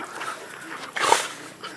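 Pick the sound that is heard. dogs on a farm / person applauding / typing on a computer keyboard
dogs on a farm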